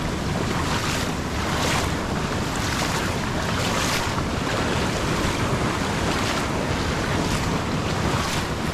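Heavy monsoon rain pours over a flooding Kajali river in a Konkan village, a loud, unbroken wash of roaring water and rainfall with gusty wind, constant and close.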